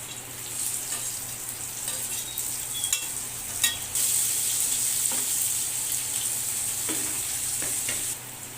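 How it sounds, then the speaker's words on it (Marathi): Crushed garlic and chopped tomato sautéing in a pan for moong dal and ridge gourd curry, a steady close hiss of frying that grows louder midway, with occasional scraping stirs. "आता यामध्ये ठेचलेला लसूण टाकूया आणि यानंतर चिरलेला टोमॅटो टाकून परतवून घेऊया"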